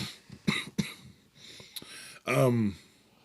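A few sharp coughs and a throat-clearing at close range, then a strained, wheezy vocal sound.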